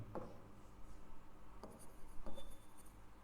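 Chalk or marker on a classroom board as a teacher writes during an English lesson, faint scratchy strokes in a few short separate bursts against a quiet room.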